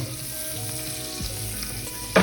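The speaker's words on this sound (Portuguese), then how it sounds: "Então vamos deixar fritar bem aqui, ó." Filé mignon beef fries in a pan for a gorgonzola risotto, giving a steady close sizzle. A sharp clatter of stirring comes at the end.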